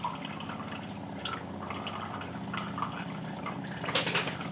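Filtered water from an ITEHIL portable water filter drips and trickles steadily into a glass, a close, continuous liquid patter with small splashes and no talking.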